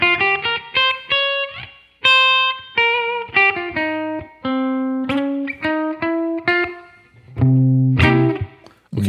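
Les Paul electric guitar with vintage high-output P.A.F. humbuckers, volume up full, played through a virtual mic'd Deluxe Reverb cabinet: bright clean-to-crunchy single notes and chords ring out in quick phrases, ending on a loud strummed chord.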